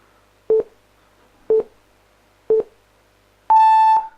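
A quiz countdown timer sounds three short, evenly spaced beeps one second apart, then a longer, higher final tone, clear and loud with no talk.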